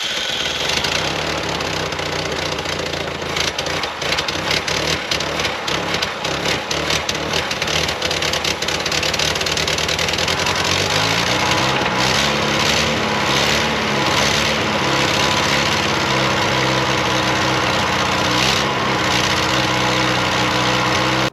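A Willys Jeep FC-150 engine fitted with a short, stubby carburetor runs steadily and loudly close by, its rough idle shifting to a smoother, lower running note partway through, with no talking.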